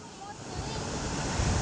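Water pours from Galdhara dam near the Khodiyar temple, a steady broadband rushing roar heard fairly close and unbroken.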